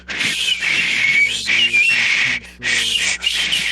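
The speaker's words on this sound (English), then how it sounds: "He whistles horribly." A person whistles a shrill, wavering, tuneless melody in long sustained runs with a brief pause, loud and close, during a tabletop fantasy role-playing session.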